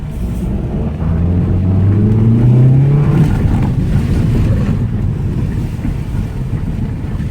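A Toyota Trueno AE111 engine revs up loudly, its pitch rising over a few seconds before settling into a rough, steady rumble with wind buffeting the microphone.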